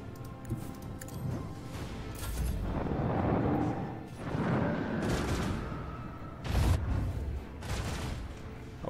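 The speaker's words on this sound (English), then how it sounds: "We're sending them a couple of torpedoes." Torpedo strikes landing on a ship in the video game Warhammer 40k Rogue Trader, several heavy booming impacts and rumbling blasts in a row, some sharp bursts standing out loud against a continuous rumble.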